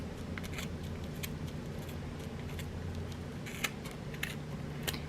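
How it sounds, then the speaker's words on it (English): Scissors snip repeatedly at close range through yarn for a pom-pom, a series of quick, light cuts over a faint background hum. "It kind of has a little guide there for your scissors. And you just keep snipping."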